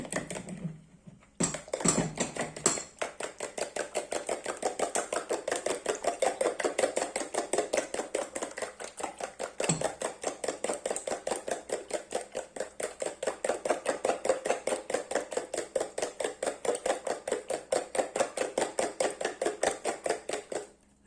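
Eggs for a spinach tortilla are whisked briskly in a bowl, producing a long run of rapid, regular clicking beats, close and steady, after a brief clatter at the start.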